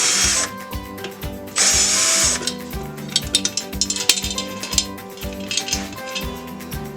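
A cordless power drill spins in short, whining bursts while backing screws out of a bracket during basement entry work, with metallic clinks and rattles of loose parts between bursts.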